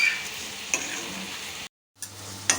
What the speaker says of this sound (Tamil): இப்போ இந்த தனியா எல்லாமே நல்லா வறுபட்டு வரணும்